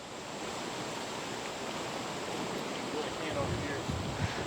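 A swollen river in flood in Eastern Kentucky rushes past in a steady, dense roar of churning water that fills the whole clip, growing slightly louder toward the end.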